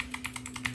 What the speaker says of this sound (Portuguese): Vocês estão ouvindo aí o barulho do digitando